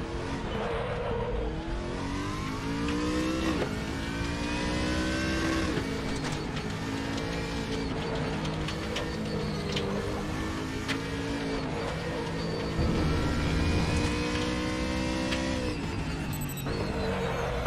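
Race car engines in the Raceroom racing game at the Bilster Berg circuit during a multiclass race, loud revving that climbs and drops through repeated gear shifts, with downshift bursts and occasional faint tire squeal, alone without talk.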